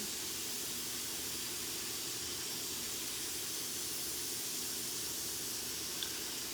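An airbrush gun spraying paint onto a hoodie gives a steady, even hiss that runs unbroken and fairly soft throughout.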